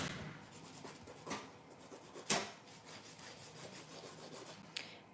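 Nail file dragged along the edges of acrylic nails, a soft, close, raspy rubbing in short repeated strokes, with a few sharper scrapes and no talking.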